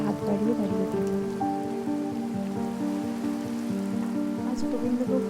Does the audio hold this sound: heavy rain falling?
yes